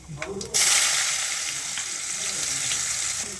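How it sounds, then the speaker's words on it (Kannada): Two onions fry in a pan with cumin and asafoetida for an ivy gourd palya. A few soft clatters come first, then a loud, close sizzle bursts in and holds steady without any voices. "ಈರುಳ್ಳಿ ಎಲ್ಲ ಫ್ರೈ ಮಾಡ್ಕೊತಾ ಇದ್ದೀನಿ"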